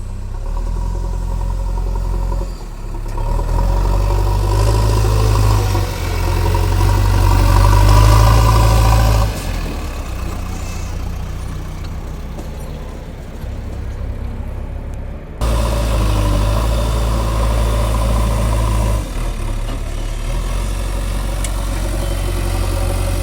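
A JCB engine runs continuously on a farm near a brick kiln, a deep, steady rumbling drone that swells in loudness a few times, close and alone without talk.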